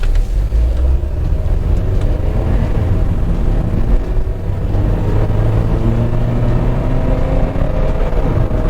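A 2011 Mazda 6 Touring with a five-speed automatic transmission driving, heard from inside as a loud, steady low engine drone and road rumble with rising and falling tones as it accelerates through the gears, with no talking.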